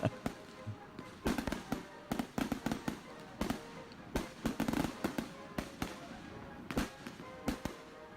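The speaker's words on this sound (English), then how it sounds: "let's go to see a little firework action" Fireworks burst outdoors at night during an Independence Day celebration, a rapid irregular series of sharp cracks and pops at middle distance, some clustered, others spaced apart.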